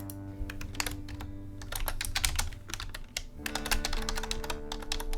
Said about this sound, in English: now my trusty keyboard